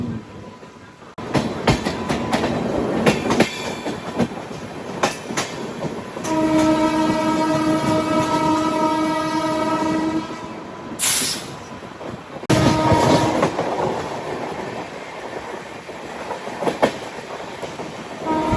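A Janshatabdi Express rushes past Tanguturu station near Ongole, its wheels clattering in a fast rhythmic roar while a long, loud horn blast sounds and a second short blast follows.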